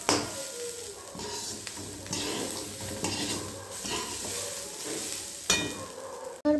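Stirring and frying in a pan while whole warm spices toast for nolen gur payesh, a Bengali date-palm jaggery rice pudding: steady sizzling with repeated scraping stir strokes and a few clinks of utensil on the pan, close and continuous.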